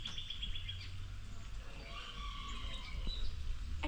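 Small birds at an Ohio bird sanctuary chirp in short, bright, repeated tweets over a low outdoor rumble, fairly close and moderately loud.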